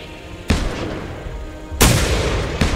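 Gunshots fired at a dinosaur in the hunting game The Hunter Primal, three sharp loud booming reports spaced irregularly over a rumbling background, with no talking.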